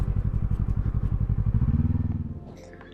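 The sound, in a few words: motorcycle riding up steep beach track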